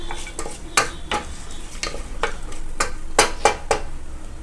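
Onions fry in hot oil for mutton kulambu as a spoon stirs them, making a bright crackling sizzle broken by sharp, fairly regular scrapes and clacks against the pan, nearby and with no speech.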